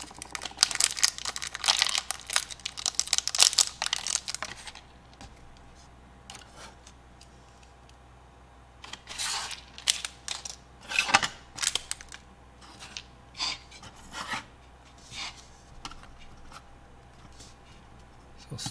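A small plastic packet of screws for an ICY DOCK slim drive caddy crinkles and tears open in close, sharp rustles, followed by scattered lighter clicks and rattles.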